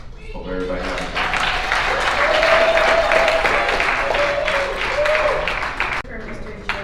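A community gathering of mothers in Pittsburgh breaks into sustained audience applause. The dense clapping swells to a loud steady roar and holds for several seconds before thinning out.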